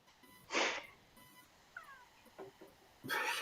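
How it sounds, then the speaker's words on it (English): A cat gives a short, thin meow midway, faint and brief between louder rustling bursts and handling noises, with no speech. "Meow. I heard that. That was Brady"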